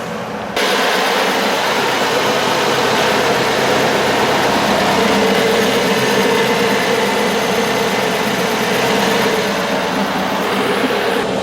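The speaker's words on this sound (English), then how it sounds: "The Kubota started." A Kubota engine running steadily just after starting, a constant close, rough low rumble that holds even throughout with no talk.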